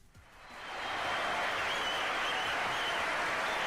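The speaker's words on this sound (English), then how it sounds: "Big round of applause for the dudes, Ken and Rye." Applause from a live crowd for two performers in a cellar venue, swelling up in the first second and then holding as a steady, dense wash of clapping with no talk over it.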